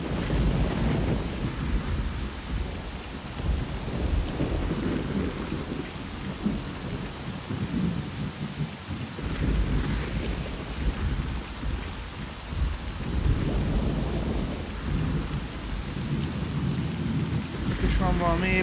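Thunderstorm in the game Stalker: Call of Pripyat, with steady heavy rain hissing throughout and low rolling thunder rumbling in waves, loud and continuous with no speech.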